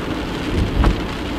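A rainstorm hisses steadily with a dense wash of falling rain, and a low thunder rumble swells briefly near the middle.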